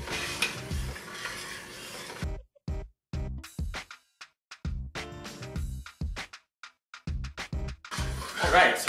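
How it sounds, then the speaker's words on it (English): Grated cheese being stirred into a macaroni cheese sauce, an apple-sausage mac and cheese, with a spoon scraping the pot in short, uneven strokes. Gaps of quiet fall between the strokes, and a voice talks at the start and the end. "I'm going to add really slowly and while we're stirring the sauce"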